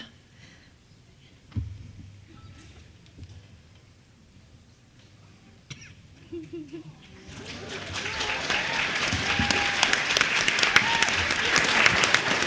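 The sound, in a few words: audience applause at a convention panel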